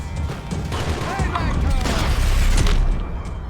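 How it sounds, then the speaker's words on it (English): Gunfire and booming impacts ring out in the video game Max Payne 3, several heavy shots and blasts in quick succession, loud and close, mixed with in-game voices. "Gunfire over Hoboken."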